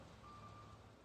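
A faint, steady electronic beep tone from a reversing truck, distant and quiet against low background rumble.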